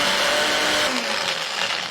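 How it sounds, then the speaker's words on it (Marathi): Kitchen mixer grinder running dry with garlic, green chillies and coriander, a loud steady whir close by that eases slightly in pitch near the end, no voices. "आधी हे ना सुकंच मिक्सरमध्ये फिरवून घेऊयात"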